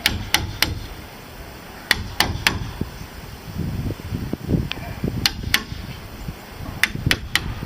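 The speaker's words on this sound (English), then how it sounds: "always chisel on the lower side of the cut, and you simply take a little bit out" Chisel cutting into wood to seat a wall brace: sharp, close, irregular strikes come in small clusters over a low background rumble.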